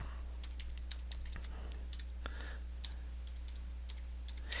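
Rapid typing on a computer keyboard, irregular bursts of key clicks over a steady low hum, close and fairly quiet.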